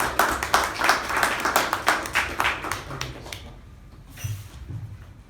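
A small audience at a Toastmasters club meeting claps for a speaker, a fairly close round of applause with distinct hand claps that fades after about three seconds, followed by faint sounds of the room.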